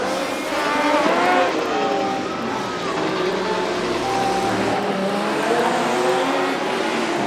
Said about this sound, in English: the officials letting the Oakland car go past